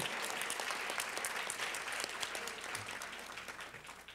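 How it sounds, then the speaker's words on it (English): Audience applause at a university lecture series event, a dense sustained clapping from a full room that holds steady for about four seconds and tapers slightly at the end, with no talking over it. "Give them another round of applause."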